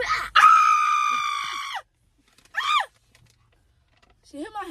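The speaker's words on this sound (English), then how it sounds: "It's giving scary movie scream." A person lets out a loud, shrill, sustained scream like a horror-film shriek lasting over a second, followed by shorter wavering vocal cries after a pause.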